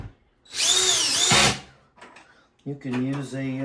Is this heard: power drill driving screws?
yes